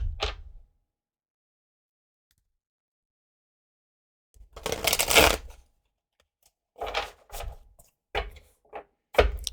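Tarot cards are shuffled by hand in short bursts: one brief riffle, a silence, a longer loud riffle, then several quick separate shuffles and taps close by.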